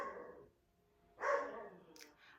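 A puppy gives a short burst of barks and yips, close and moderately loud, followed by a pause and then another bark with a higher yelp at the end, in an indoor setting.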